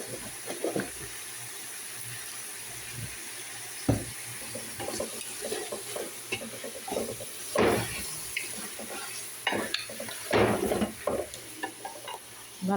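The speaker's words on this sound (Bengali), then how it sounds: "ভালো করে একটু নাড়াচাড়া করে নিই।" Whole spices such as cumin, coriander, turmeric and garam masala are stirred in a pan, with irregular scraping and knocking strokes over a soft sizzle and a faint watery background.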